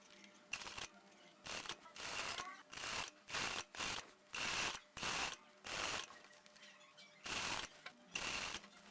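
Domestic sewing machine stitching a ruffled blouse seam at normal stitch length, heard as repeated close bursts of rapid mechanical whirring and clatter separated by short pauses.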